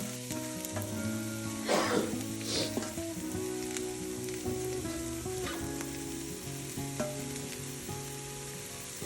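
Onions, curry leaves and green chillies frying in a tempering for capsicum carrot fry, a soft steady sizzle with occasional stirring scrapes, fairly quiet under a background of steady music, no voices heard.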